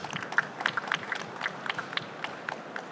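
Scattered applause from a small audience at a fintech pitch competition, separate claps irregular and moderately near, thinning out with no voices over them.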